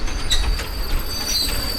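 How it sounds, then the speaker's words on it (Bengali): A train rolls into a station close by with a steady low rumble and high, thin squeals from its braking wheels; no voices. "ট্রেনটি স্টেশনে এসে থামলো"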